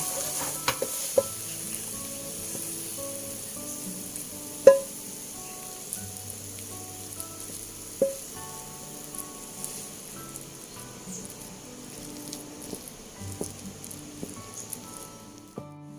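Coconut-milk batter cooks over a fire with a soft, continuous sizzle and light stirring, interrupted now and then by a few sharp clinks and taps.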